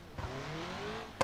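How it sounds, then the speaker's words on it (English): Car transmission whine in BeamNG, a thin rising whine climbing in pitch over a low engine drone, steady and moderately faint, ending with a brief sharp click. "I can hear the transmission whine"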